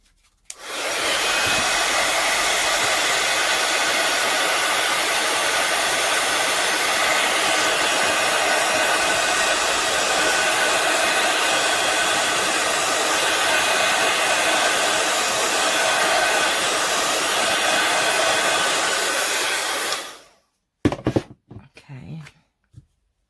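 Hair dryer blowing on a craft project, a loud steady close whoosh running for about twenty seconds before switching off, followed by brief handling clatter.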